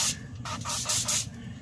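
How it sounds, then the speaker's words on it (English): Olive oil sprayed over chicken skin for a beer can jerk chicken on a Green Mountain pellet grill, several close hissing bursts of mist in quick succession, alone without talk. "I am gonna go hit this up with just a little bit of olive oil, give it a nice little spray all over"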